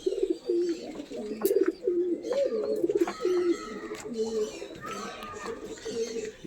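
A pair of pigeons offered for sale coo steadily in soft, repeated rolling phrases, close by, with faint chirps and handling noises around them.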